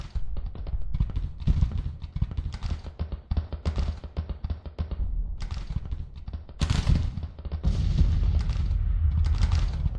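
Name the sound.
artillery fire in the video game Grand Tactician: The Civil War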